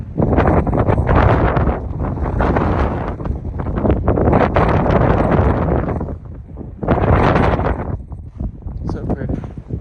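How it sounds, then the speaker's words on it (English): Strong desert wind beside a Joshua tree on the Pacific Crest Trail buffets the microphone in loud, rumbling gusts that surge and ease, dropping briefly near the end before returning. "It's pretty windy this morning"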